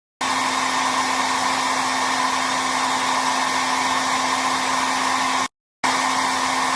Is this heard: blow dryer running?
yes